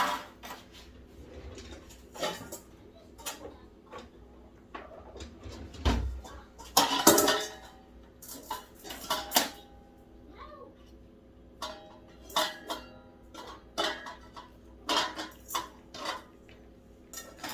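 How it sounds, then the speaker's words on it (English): A silicone spatula pushes pepper and garlic sriracha mash through a metal strainer, giving irregular scraping, clinking and tapping sounds, close and fairly quiet, with intermittent knocks throughout. "we're going to take our first batch and put it through our strainer and see, and we're going to use a silicone spatula to push it through."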